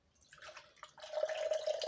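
Orange juice poured from a container into a measuring vessel for a cocktail, a short liquid trickle that grows steadier and fuller over two seconds, close and fairly quiet.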